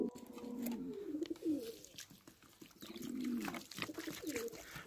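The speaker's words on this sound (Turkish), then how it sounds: "Güvercinlerimin sesi sizlere kadar geliyor." Pet pigeons coo in repeated soft, throaty rolling calls, close and fairly quiet, with a faint background hiss and no talk.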